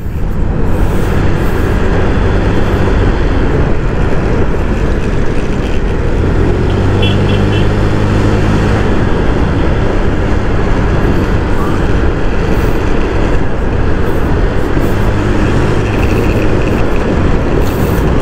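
A car travelling along MacArthur Highway in San Isidro gives a steady, loud road and engine rumble throughout, with a brief low hum midway and no talking.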